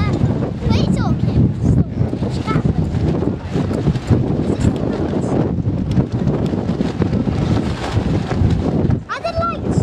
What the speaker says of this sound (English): that wind's getting strong, isn't it?